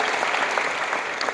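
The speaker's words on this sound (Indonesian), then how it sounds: "tepuk tangan untuk kakak kita yang sudah bicara hari ini" A seminar audience applauds a speaker at a motivational event for Al Bayan and Alfafa students in Banten, giving a dense, steady burst of many hands clapping at once that holds evenly throughout.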